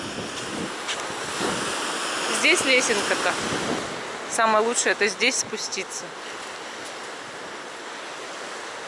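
Rough, stormy sea waves and wind on the shore at Zelenogradsk, a continuous broad wash of surf and gusts buffeting the microphone while people talk close by.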